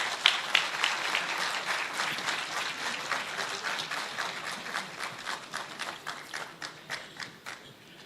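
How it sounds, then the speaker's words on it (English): An audience at a university convocation ceremony applauds. The crowd's clapping is moderately loud and sounds slightly distant, with clear individual claps that gradually thin out toward the end. "In a huge round of applause."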